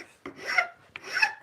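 Hand file rasping across a wooden handplane knob being turned, two close, distinct scraping strokes, each rising and trailing off, alone with no talk.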